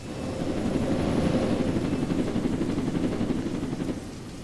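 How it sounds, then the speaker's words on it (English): A steady, muffled video game helicopter rotor thrum drones at moderate volume for several seconds, with a dull rumbling texture. "We're in a helicopter."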